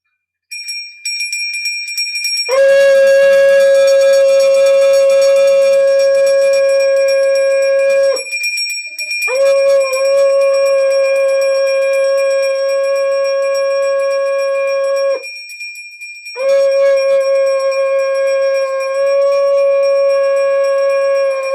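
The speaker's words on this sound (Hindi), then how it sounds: "शंख ध्वनि जो की जाती है हमारे द्वारा, यह शंख ध्वनि का भी महत्व है हमारे जीवन में।" A conch shell, or shankh, is blown at a Mahashivratri morning ritual in three long, loud, steady horn-like blasts with brief breaths between them, a bright tone ringing alone without speech.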